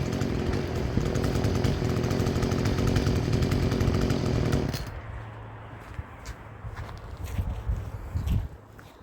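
An Echo CS-310 chainsaw, repaired with an aftermarket carburetor, runs at a loud steady idle for about five seconds, then cuts off, leaving quieter shuffling and handling noises close by.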